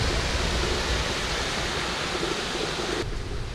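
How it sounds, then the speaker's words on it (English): The Westkill River, a mountain stream on a rainy hike up Hunter Mountain, rushes in a loud, constant wash of water noise that thins abruptly near the end. "this here is the Westkill River, or stream"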